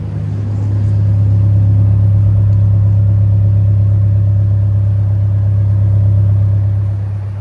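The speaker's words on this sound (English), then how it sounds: "Let's hear that exhaust one time." A 2025 Toyota Tacoma TRD Pro idles with a steady, deep exhaust rumble, loud and close, holding an even drone throughout without revving, and no voices are heard.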